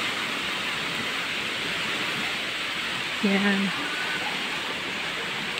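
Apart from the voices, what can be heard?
spring water flowing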